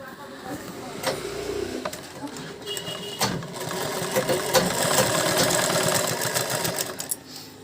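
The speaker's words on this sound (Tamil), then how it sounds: "தைக்கிறேன் பாருங்கள். என்கிட்ட 3 மிஷின் இருக்குது." A sewing machine stitches fabric with a steady, close mechanical whir and rattle that gradually grows a little louder, while someone talks over it.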